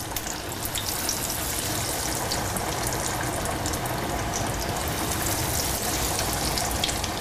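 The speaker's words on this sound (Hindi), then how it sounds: "सो कबाब हमने बना के रख लिए हैं, अब इन्हें हम डीप फ्राई करेंगे।" Kebabs deep frying in hot oil, a steady dense sizzle and bubbling that holds at an even level throughout, close and loud, with only a brief word spoken.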